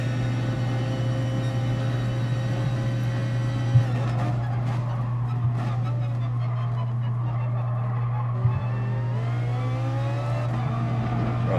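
GT Sport race cars, a Nissan GTR and an Audi among them, in an FIA Manufacturer Series race, droning with a steady engine tone throughout, gear shifts and revs rising and falling over the constant hum.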